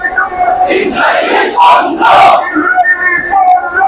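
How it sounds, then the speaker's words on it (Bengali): Loud crowd chanting slogans in unison at a massive street rally in Dhaka, rhythmic shouted bursts swelling and falling, close and dense with no single voice standing out. "সবার মুখে আজকে একই স্লোগান, ইসরায়েলি পণ্য বয়কট করতে হবে।"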